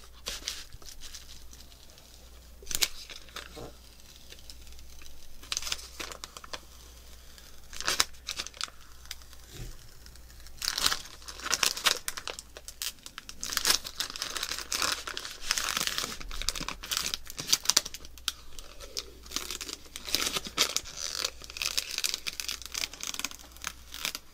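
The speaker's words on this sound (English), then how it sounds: "I guess we need to peel off the protective plastic." Protective plastic film is peeled off the panels of a PiCade arcade cabinet kit, with close, crinkly tearing and crackling in irregular bursts that grow busier and louder over time; no one speaks.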